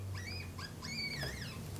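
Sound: baby marmot giving a fear scream

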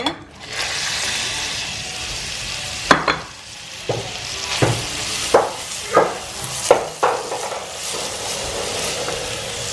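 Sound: grated carrots sautéing in butter and oil

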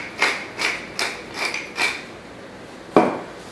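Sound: pepper grinder grinding pepper

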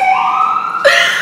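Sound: emergency vehicle sirens

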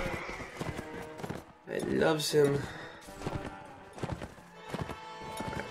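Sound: horse galloping in the video game Mount and Blade

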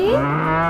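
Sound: cow mooing in a cartoon

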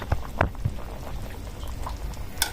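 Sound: curry cooking on the stove

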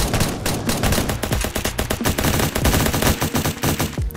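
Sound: SMG gunfire in Fortnite video game

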